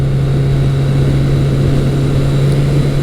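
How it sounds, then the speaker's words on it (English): A musclebike with a slick-shifting six-speed transmission runs at speed, a loud, steady, low engine drone with a constant hum and wind rush, heard close with no talk. "This motor is just so eager to rev."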